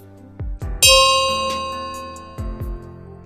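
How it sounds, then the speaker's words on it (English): A dormitory bell rings for lights out, a few bright metallic strikes with one long, slowly fading ring, then two more softer knocks near the end, heard alone without voices. "It was the bell which signaled lights out."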